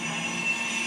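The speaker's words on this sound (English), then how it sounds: "More trains." Trains pass in the Lego Batman 2 video game, giving a steady rumbling rail drone with a high squealing tone, with no talk over it.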